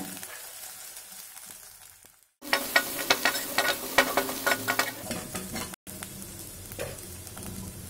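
Spices hit hot oil with a sudden loud sizzle, crackling and popping steadily for several seconds as they are stirred, close by, while making coconut rasam.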